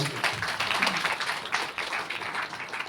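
An audience at a closing ceremony breaks into loud, dense clapping that rolls on steadily for a few seconds, close and continuous with no talk over it.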